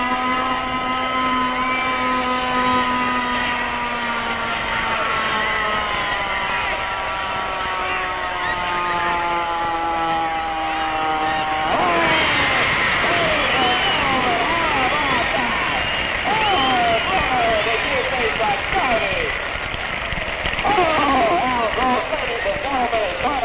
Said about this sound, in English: He's going to attempt to keep it on its side as he goes down the track